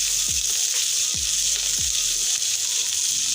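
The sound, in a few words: dried red chillies frying in a pan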